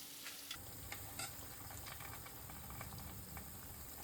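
Tofu patties (hiryuzu, ganmodoki) deep-fry in oil over low heat around 140 degrees, a soft, steady bubbling sizzle with scattered pops, faint and close, with no talking.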